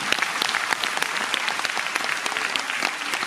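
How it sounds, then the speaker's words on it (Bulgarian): Audience applauding a children's folk dance group at a festive concert in Razlog: steady clapping from a hall full of people, individual claps standing out up close over the dense wash. "Аплодисменти."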